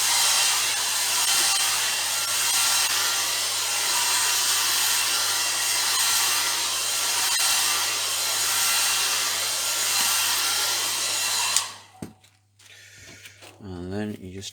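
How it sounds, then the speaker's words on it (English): A hair dryer blows steadily over glued wooden pieces for a blade prop, a constant broadband whoosh with a low hum running about twelve seconds before cutting off, followed by faint handling sounds. "you can take the shortcut and run them over with a hairdryer"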